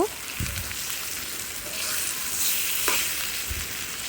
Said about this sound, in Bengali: এটা একটু আমি ভাজা ভাজা করে নিব।